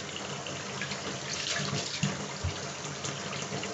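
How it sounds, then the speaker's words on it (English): Tap water pours in a steady, close splashing stream as a bearded dragon is gently showered, with a few louder splashes and no voices. "you just kind of gently shower them with water"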